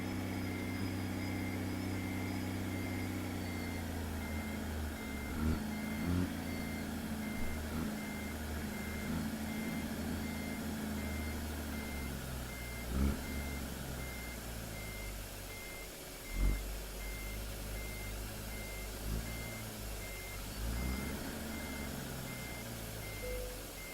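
Steady reversing beeps from a Kenworth W900 truck in American Truck Simulator, repeating evenly over a low idling diesel engine rumble, moderately faint and without speech.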